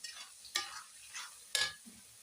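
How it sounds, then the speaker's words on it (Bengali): Two whole dried red chillies dropped into hot oil in a pan, giving faint, soft sizzling with a few sharp scraping stirs at intervals, quiet and close, with no voices. "গোটা লঙ্কা দুটো দিয়ে দিচ্ছি, ভাজা হয়ে যাবে এর মধ্যে"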